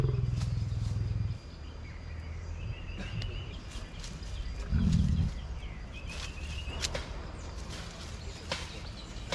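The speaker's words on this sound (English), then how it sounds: "the growl of the lion is the most terrifying sound" A lion at Entebbe zoo in Uganda gives low rumbling growls, a deep heavy one at the start and another swell midway, amid a busy outdoor background with birdcalls.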